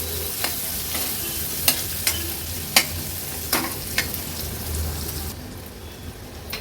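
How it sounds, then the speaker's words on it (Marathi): Finely chopped onion frying in a mustard seed and curry leaf tempering over a low gas flame, a steady close sizzle broken by a few sharp crackles and spatula scrapes, no talk. "आपण हा बारीक चिरलेला कांदा ऍड करणार आहोत गॅसची फ्लेम लो करून कांदा थोडासा शिजवून घ्यायचा आहे"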